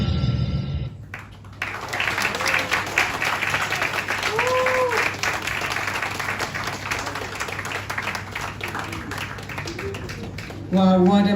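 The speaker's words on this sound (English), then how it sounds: "A big round of applause, ladies and gentlemen, to Ms. Danishta Samaria" Sustained applause from an audience at an Indian cultural centre anniversary celebration after a yoga performance, dense steady clapping filling the room for about ten seconds after the music stops, with a voice briefly heard at the end.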